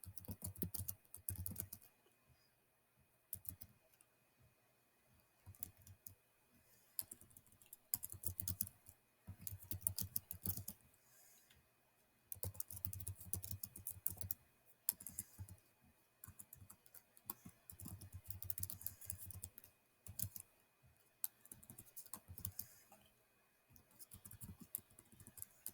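Computer keyboard typing, quiet and close, coming in irregular bursts of rapid key clicks separated by short pauses.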